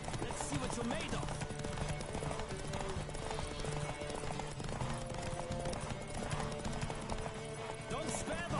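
A horse gallops in The Witcher 3 on PS5, its hooves drumming a rapid, steady clip-clop under game music and a talking voice, close and continuous throughout.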